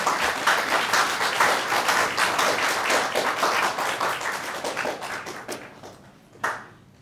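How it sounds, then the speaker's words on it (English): A Year 12 graduation audience applauds the livestream crew, a broad sustained crowd clapping that thins and fades toward the end, with a last few scattered claps standing out near the close. "can we please have a round of applause for Miles and Damon?"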